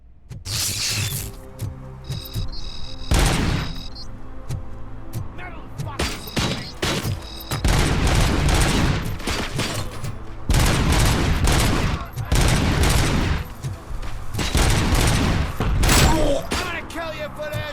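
Repeated bursts of gunfire in the video game RoboCop: Rogue City, loud sharp volleys and rapid salvos spread across the stretch with short gaps, mixed with shouted voices and clattering action sounds.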